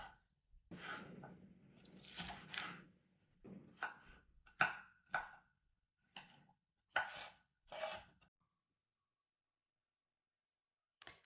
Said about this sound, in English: I'm going to be putting about 80 grams of celery. So let's go ahead and cut this very nice and small.